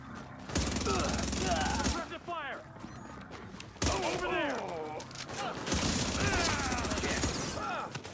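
Sustained gunfire crackles in The Division 2 video game in loud, continuous bursts separated by short gaps, with game voices talking over the shooting.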